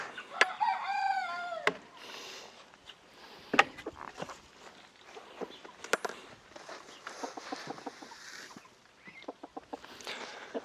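Roosters crow in a pen at feeding time, one strained call opening near and loud, followed by scattered clucks, shuffling and knocks.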